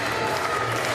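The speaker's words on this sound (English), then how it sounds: "Lovely applause from the crowd as well" A crowd at a Paralympic para powerlifting final in an arena applauds: a steady, full wash of clapping that fills the whole brief moment.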